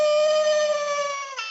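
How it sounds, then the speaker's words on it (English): An electronic wolf call plays from a camo walkie-talkie: a single sustained, steady howl with a slightly synthetic tonal quality that holds for over a second before wavering at the end. "There you got a wolf call."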